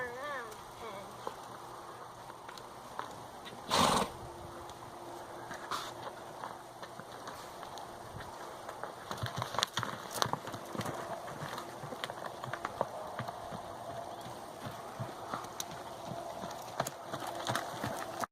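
A horse trots on the lunge line in a farm round pen, its steady clip-clop hoofbeats close and continuous, with a sharp louder knock and scattered sounds mixed in.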